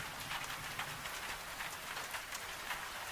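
Steady rain patters outside a Scottish farmhouse window at night, a soft, even wash of drops with no voices.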